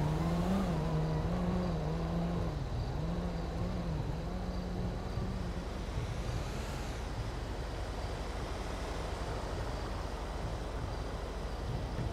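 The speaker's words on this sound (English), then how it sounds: "A lot of trucks around here tonight." Heavy trucks and cars rumble past on a road beside industrial buildings at night in GTA V FiveM, a steady low engine drone with a rising whoosh as one vehicle passes midway, continuous and fairly close, with no talking.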